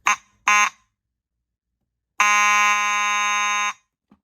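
Simplex 2903-9101 fire alarm horn sounding, two short blasts followed by one longer blast of about a second and a half, loud and harsh with silence between and no speech.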